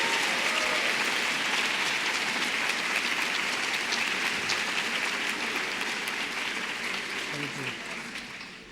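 An audience at a back-to-school staff event applauds a group of 25-year employees, a broad steady patter of many hands that holds evenly and slowly fades near the end.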